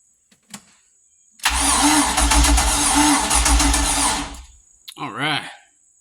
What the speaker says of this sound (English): Well, it's turning over now, but I need something to prime the engine with.